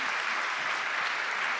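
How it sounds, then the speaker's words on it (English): A live audience at a body-language talk breaks into applause, a dense, even wash of many hands clapping that holds steady for the short stretch. "Let's give them a big round of applause."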